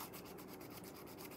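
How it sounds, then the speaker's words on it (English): Soft, steady rasping of a sanding block rubbed back and forth along resin edges in quick rhythmic strokes, quiet and close, with no voices. "Sand these down on the edges."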